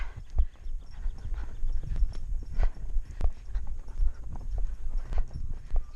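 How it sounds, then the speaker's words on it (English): A mare's hooves beat in a quick, uneven rhythm close by as she tries to break into a canter on a ride, with dull thuds and creaking tack under a light wind. "She's trying to go into a canter there"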